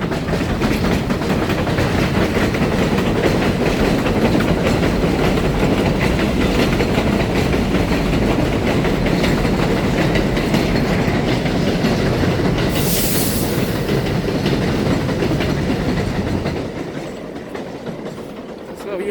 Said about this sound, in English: Damn train too.